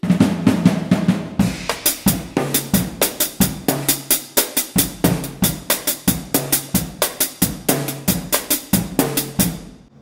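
A lively percussion groove repeats steadily, crisp hand drums and scraped accents driving a bouncing, syncopated cumbia rhythm for about ten seconds.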